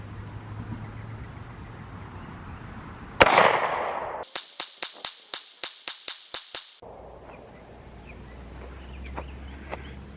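About eleven sharp, evenly spaced pistol shots come from a Springfield Armory Hellcat FDE or Sig P365 fired at a target 25 feet away on a range, loud and close, after a single earlier handling clatter.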